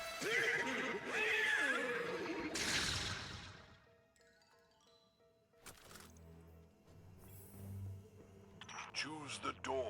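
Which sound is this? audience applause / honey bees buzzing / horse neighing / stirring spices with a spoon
horse neighing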